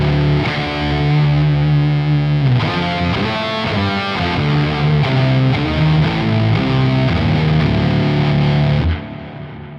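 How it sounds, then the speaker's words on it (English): Distorted electric guitar through a Quad Cortex scene with octave, reverb and delay effects, playing sustained chords and riffs with a wide wet tail, cutting off near the end. "I want the same, but I want it with more reverb and delay."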